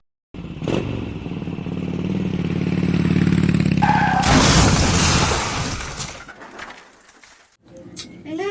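A motorcycle engine runs loudly and steadily for several seconds, then dies away and drops off near the end before some noise returns.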